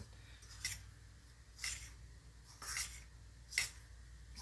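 A fork beating eggs in a bowl in a home kitchen, four soft, evenly spaced scraping strokes about a second apart, close by and fairly quiet, with no voices.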